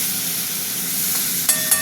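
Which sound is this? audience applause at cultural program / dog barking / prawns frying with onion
prawns frying with onion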